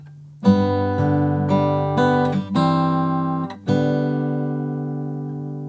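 Acoustic guitar notes of fingerpicked chords from "All To Jesus I Surrender" are plucked one after another, each ringing out and slowly decaying, a handful of gentle attacks played alone.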